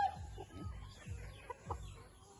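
Several short clucks from chickens repeat at an uneven pace against a quiet background, fairly close by.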